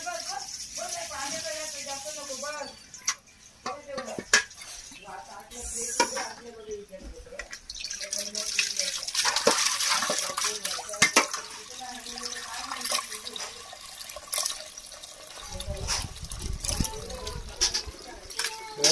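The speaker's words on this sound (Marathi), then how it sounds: "अजून मामीचे कपडे धुवून झाले नाही." Clothes are washed by hand at home with buckets of water: splashing, sloshing and slapping come in irregular bursts, with people talking nearby.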